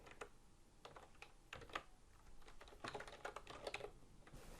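Typing on a computer keyboard at a desk, quiet irregular bursts of key clicks in short clusters, close and alone.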